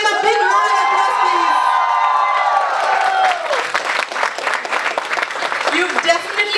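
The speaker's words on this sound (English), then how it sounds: "A big round of applause" An audience at a Guinness World Record event at a Hamleys toy store breaks into loud applause with cheers and whoops. A voice is heard near the start, then the clapping and shouting swell and continue.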